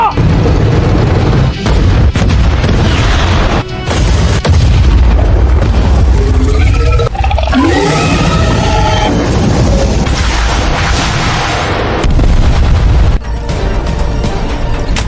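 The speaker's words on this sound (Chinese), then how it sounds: "坦克连队，穿甲弹发射！" Animated tank company firing armor-piercing shells: loud, dense booms and blasts roll continuously, with a brief burst of swooping tonal effects in the middle and sharp cuts between volleys.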